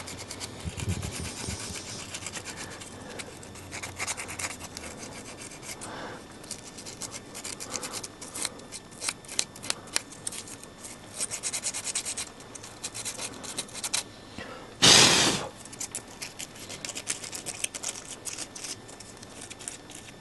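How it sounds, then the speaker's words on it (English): Sandpaper rubbed over a wooden workpiece to deburr it, a continuous close scratchy rasping with uneven strokes and one brief louder scrape near the end. "Special deburring tool for wood, which is a piece of sandpaper"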